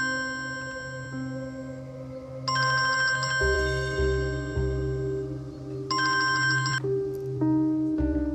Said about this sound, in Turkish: Yaman Ferit arıyor